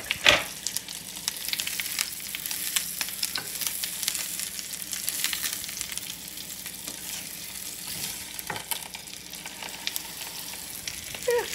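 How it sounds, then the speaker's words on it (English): A Beyond Meat plant-based sausage sizzles in a greasy frying pan, a continuous crackling hiss with occasional sharper pops, close up and with no talking. "see some grease, it sizzles"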